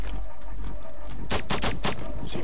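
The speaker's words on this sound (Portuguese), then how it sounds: "Não, João, você não dá 2 tiros e recarrega uma arma não, João." A rapid burst of several Rainbow Six Siege gunshots cracks out sharply in quick succession, surrounded by a steady background hum.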